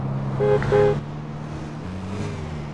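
A car driving in the video game GTA San Andreas, a low steady engine hum running through the clip with a short tonal tune or horn-like burst near the start.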